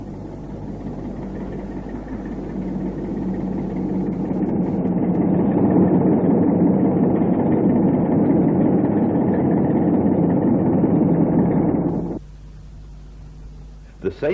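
British Rail Class 27 diesel locomotive 27036 arriving at Crianlarich, its engine a loud, steady low rumble that builds and holds for about twelve seconds before cutting to a quieter idle.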